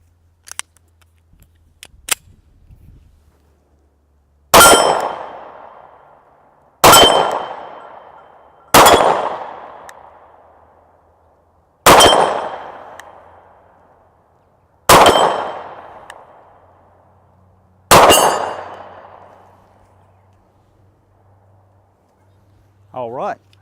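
A pistol fires cheap steel-case Winchester 115-grain ammunition at targets outdoors, six sharp reports spaced a couple of seconds apart, each loud crack followed by a ringing decay, with a few faint clicks before the first shot.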